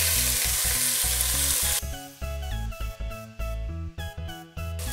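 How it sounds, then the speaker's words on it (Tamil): Onions with cinnamon, cloves and cardamom sizzle loudly in hot oil, a dense crackling hiss that gives way to bursts of frying broken by stirring, close and without talk. "எண்ணெய் காஞ்சோனே பட்டை, கிராம்பு, ஏலக்காய், அடுத்து வெங்காயம் போட்டுக்கலாம்."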